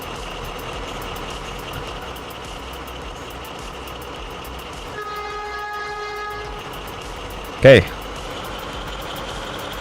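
A Vectron locomotive in the train game Derail Valley runs with a steady low engine drone, a brief tonal whine rising midway and a short sharp burst near the end, with a single spoken word.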